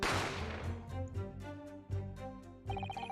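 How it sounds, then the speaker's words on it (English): A single gunshot in the Great Ace Attorney video game opens with a sharp, loud burst that decays quickly, followed by ringing tonal game music. "You heard the gunshot, you mean?"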